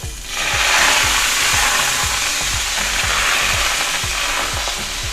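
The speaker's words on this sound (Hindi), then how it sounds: "एक लेडल फुल बैटर लेके हम पोर कर देंगे" Thin rava dosa batter made from semolina hits a hot pan and sizzles loudly in a continuous hiss, with a steady rhythm of soft scraping or ladle-spreading strokes repeating beneath it, close up and without talk.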